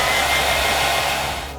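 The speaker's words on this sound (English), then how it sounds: "This is your hairdryer." A hair dryer blowing steadily in a garage workshop, a loud continuous whooshing hiss with a motor whine that tapers off slightly at the very end, no voices.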